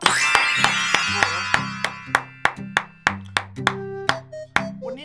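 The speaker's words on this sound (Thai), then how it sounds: "ปรบมือครับ" Sharp claps from a host at the opening of a Thai entertainment show, about a dozen loud, evenly spaced strikes, each with a tonal ringing tail, heard alone without talk.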